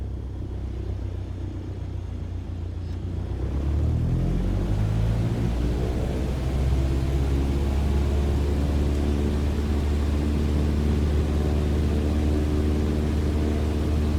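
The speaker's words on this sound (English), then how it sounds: "Apply full power and I'll walk you through the takeoff as we go." An airplane engine in Microsoft Flight Simulator 2020 spools up to full takeoff power, its rumbling drone rising in pitch over a few seconds and then holding as a loud, steady roar.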